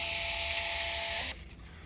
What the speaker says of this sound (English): now you're going to see another ticket kick out of the printer